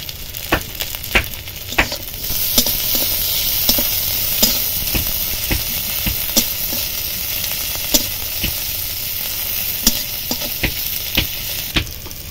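Onion, green chili and crushed garlic sizzle steadily in a pot of hot oil, a loud continuous frying hiss broken by sharp taps and scrapes of stirring, with no voices.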